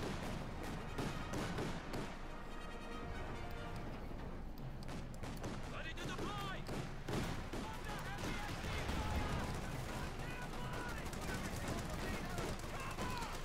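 A war video game battle in which a grenade and gunfire hit a large group of infantry: dense, continuous bursts of gunshots and thuds, with a commentator talking over the fighting throughout.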